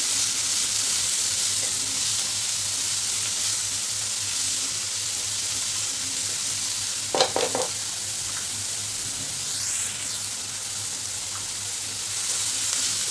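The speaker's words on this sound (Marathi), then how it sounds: "कांद्यामध्येच आपल्याला हिरवी मिरची घालायची म्हणजे कांद्याबरोबर व्यवस्थित परतल्या जाते" Onion and green chilli sautéing in a pan for a mushroom masala produce a steady hiss of frying, with a short burst of spatula scraping partway through.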